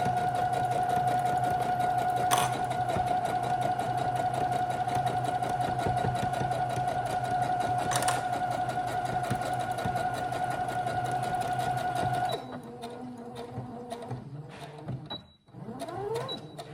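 Straight seam being stitched on a shoulder bag by a sewing machine, a steady loud whirring run for about twelve seconds, then stopping into brief clicks and fabric handling.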